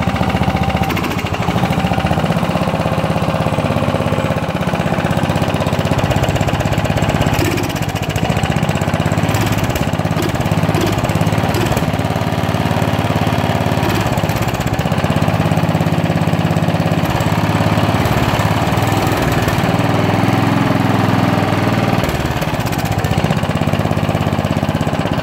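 A lawn mower engine that burns a lot of oil runs steadily and loudly throughout, a continuous droning rumble with slight fluctuations in pitch.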